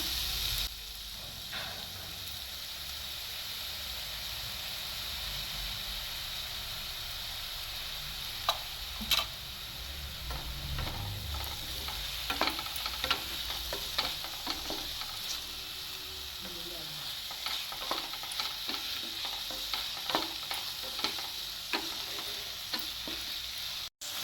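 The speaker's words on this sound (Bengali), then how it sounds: "আমি এখানে 1 চামচ সয়া সস দিয়ে দিচ্ছি।" Soy sauce sizzles in a hot frying pan while being stirred for a pasta dish, a soft steady hiss with scattered clicks and scrapes of the spoon against the pan, fairly quiet and close.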